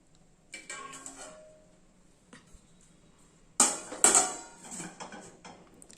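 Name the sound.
closing the lid on a steamer pot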